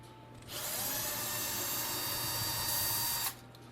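A power drill runs steadily for about three seconds, backing out a screw from a Hipshot bass bridge on a bass guitar, with a close, sustained whir that starts and stops abruptly.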